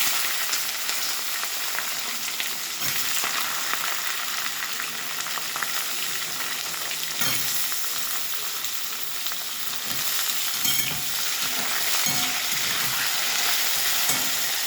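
Panch phoron spice tempering with mustard seeds, radhuni and dried chilli frying in hot oil for a cucumber mixed-vegetable dish, giving a loud, steady broadband sizzle throughout with occasional soft clicks of stirring.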